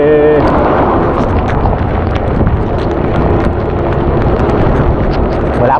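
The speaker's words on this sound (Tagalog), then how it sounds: "dito ramdam mo yung lakas ng ulan tsaka hangin." Heavy rain and strong wind roar on a road toward Alfonso near Calaca, a loud, dense, unbroken wash of noise with gusty buffeting on the microphone throughout.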